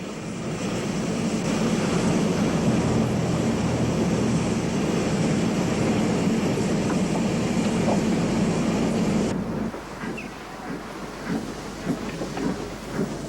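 A compound 2460 tank steam locomotive hauling a mixed train on a Portuguese narrow-gauge branch moves out, giving a loud, steady rumbling chuff that continues for about nine seconds before cutting to quieter, scattered clanking.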